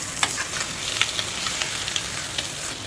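Bun slices frying in a pan for a breakfast dish, a steady close sizzle with scattered pops and small crackles throughout and no voices.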